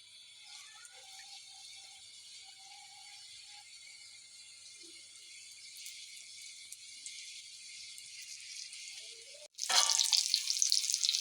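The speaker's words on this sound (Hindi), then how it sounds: "अब हम इसे फ्राई करते हैं।" Crumb-coated chicken and potato kebabs fry in hot oil with a steady, close sizzle that suddenly swells louder near the end as more are added or turned, with no talking.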